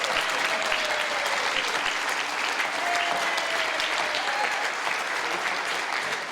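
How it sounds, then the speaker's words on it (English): A crowd at a Lions Club minstrel show applauds teleprompter operator Mike Davis, dense sustained clapping that stays loud and even from start to finish, with faint voices mixed into the crowd. "give him a round of applause"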